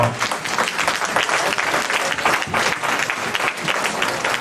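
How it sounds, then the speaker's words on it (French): An audience at a 2019 New Year's greeting ceremony in Pussay applauds a silver medal recipient, a loud, dense burst of many hands clapping that stays strong throughout with a faint murmur of crowd beneath. "vous pouvez l'applaudir"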